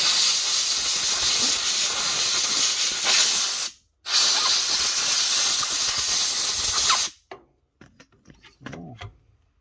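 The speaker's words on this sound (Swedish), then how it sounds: "Och sen blåser vi rent." Compressed air hisses loudly in two long bursts, briefly cut off between them, while parts of a Husqvarna Automower wheel motor gearbox are blown clean during repair; fainter clicks and small handling noises follow once the air stops.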